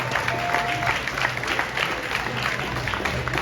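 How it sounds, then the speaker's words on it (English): A crowd at a boxing press conference in San Antonio applauds a fighter, a steady round of clapping with some crowd murmur, held at moderate loudness throughout. "Big round of applause for Adam."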